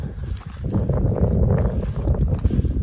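Wind blowing across the microphone in a continuous, rough low roar on the Pacific Crest Trail in the Sierras, with no one talking.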